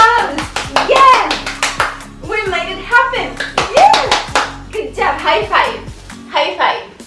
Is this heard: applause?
yes